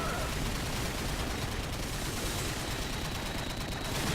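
Gunfire in the video game Call of Duty 4: Modern Warfare, a dense, continuous loud burst of shots filling the whole stretch with no pauses.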